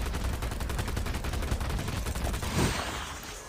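Rapid automatic gunfire in Call of Duty Mobile zombies mode, a steady close burst of shots that ends in a louder blast with a ringing tail.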